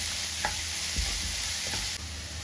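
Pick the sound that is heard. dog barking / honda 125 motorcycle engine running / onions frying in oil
onions frying in oil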